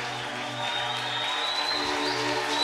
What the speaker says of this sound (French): On va faire une standing ovation pour le roi de gloire